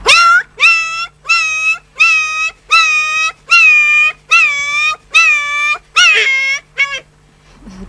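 A voice imitates a small dog whimpering, about ten high, drawn-out whines in a steady rhythm, loud and close, the last few shorter and trailing off.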